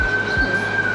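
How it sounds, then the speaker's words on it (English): A steady, piercing police siren tone holds throughout in East Baton Rouge, loud and sustained over a low background rumble. "there are the sirens right there"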